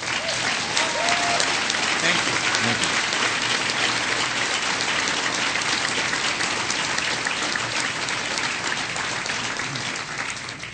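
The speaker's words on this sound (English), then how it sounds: "So please give her a big round of applause." Sustained audience applause fills a political rally in Connecticut, with a dense clapping roar that stays loud throughout. A voice briefly speaks over it.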